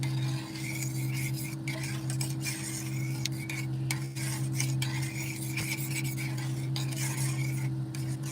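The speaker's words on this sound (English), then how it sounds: "So I'm going to stir everything here" A spoon stirs gluten-free, dairy-free clam chowder with lentils in a pot, soft scraping and clinking strokes over a steady low hum, with no talking.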